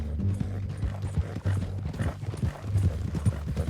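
Horse hooves clip-clop at a steady walking rhythm in the Red Dead Redemption 2 video game, close and continuous, with low rumbling ambience behind.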